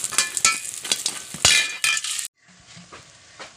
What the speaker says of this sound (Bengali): তো আমি প্রথমে কিছু বড়ি ভেজে নিলাম।